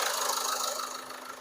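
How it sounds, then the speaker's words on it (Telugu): A Ford EcoSport Titanium engine idles just after starting, a steady close mechanical hum that eases slightly toward the end, with no talking. "ఇంజన్ అయితే స్టార్టింగ్లో ఉంది"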